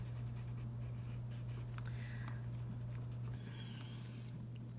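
A pencil shading on paper to darken a drawing, giving soft, close scratchy strokes in short bursts over a steady low hum, faint and without talk.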